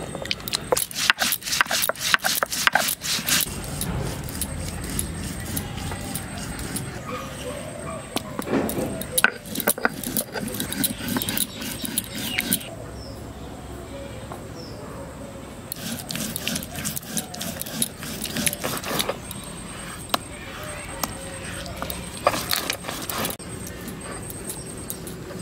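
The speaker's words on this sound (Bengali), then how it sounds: "জিরে শুকনো লঙ্কা বেটে নেব।" Cumin and dried chillies are ground into a paste on a grinding stone, rhythmic rough rubbing and scraping strokes in bursts with short pauses, close and fairly loud.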